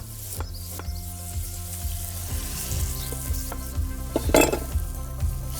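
Garlic and ginger sizzle in hot chili oil with white and brown crab meat as a utensil stirs through the pan, a steady crackling fry punctuated by scraping strokes, close and without talk.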